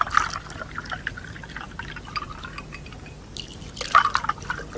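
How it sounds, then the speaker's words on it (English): Water pouring into glasses filled with ice cubes, a steady trickling stream with drips and splashy bursts near the start and again toward the end. "now fill the glasses up to the ice cube level"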